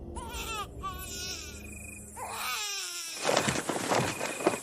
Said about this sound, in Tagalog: dumilat lang ako nang marinig ang iyak ng bata